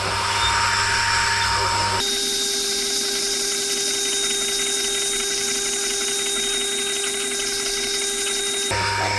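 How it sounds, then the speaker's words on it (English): Homemade Japanese-style chisel ground on a fine sharpening stone by a powered grinder, a steady loud whine with a sharp change in tone partway through, running continuously at close range. "I'm going to use the fine stone to grind this to the finer finish"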